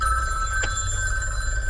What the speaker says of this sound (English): there's my phone naturally